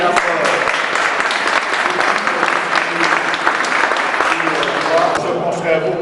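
An audience gives steady, dense applause that lasts throughout, close and fairly loud, with voices mixed in.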